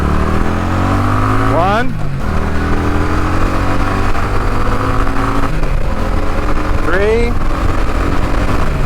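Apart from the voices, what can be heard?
motorcycle accelerating through gears, Indian Chief or Kawasaki Drifter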